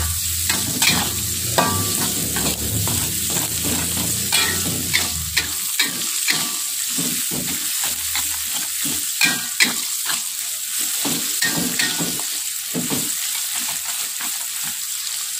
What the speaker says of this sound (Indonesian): kita baru masukkan ini irisan dari cabai merah dan cabai rawit. Baru kita aduk rata.